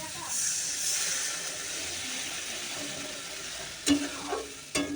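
Fried spiced masala sizzles in oil in a pan with a steady, close hiss, and a couple of sharp utensil scrapes or knocks come near the end.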